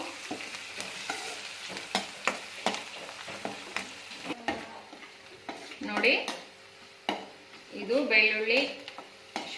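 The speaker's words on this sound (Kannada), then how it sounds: "ಶುಂಠಿನ ಪೀಸ್ ಪೀಸ್ ಮಾಡಿ ಇಟ್ಕೊಂಡಿದ್ವಲ್ಲ ಅದನ್ನ ಎಣ್ಣೆನಲ್ಲಿ ಹಾಕಿ ಕರಿತಾ ಇದ್ದೀವಿ ಅದು ಚೆನ್ನಾಗಿ ಫ್ರೈ ಆಗ್ತಾ ಇದೆ" Pieces of ginger fry in hot oil for a tomato chutney, with a steady sizzle and repeated scraping and tapping as a spoon stirs the pan. A voice talks over the cooking in the later part.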